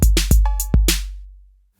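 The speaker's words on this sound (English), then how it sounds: "Those of you who remember the 1980s will have heard records that have drum sounds a bit like this" Punchy 1980s-style drum machine hits from the FunkBox iOS app: a short pattern of booming kicks and bright snare and hi-hat strikes with a tonal blip, close and loud, ending in a long decaying kick tail.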